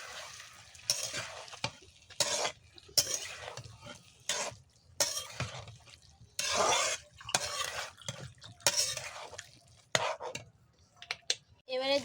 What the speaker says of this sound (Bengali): আর অনবরত নাড়তে থাকতে হবে, যাতে তলা ধরা লেগে না যায়, পুড়ে না যায়